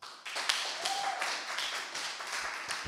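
Applause from a room audience greeting singer Sherry Ryan at a live-streamed concert, a steady wash of clapping lasting a few seconds, fairly faint and distant.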